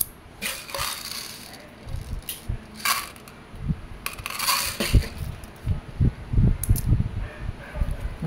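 Airsoft BBs clicking one by one into a Glock 19 Gen 5 gas blowback magazine: a quick, irregular run of small sharp plastic ticks and snaps, close and fairly loud, with no voices.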